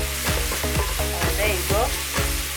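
Garlic goes into a pan of softened, transparent onions, sizzling loudly close up while a utensil scrapes and stirs in short strokes through the frying.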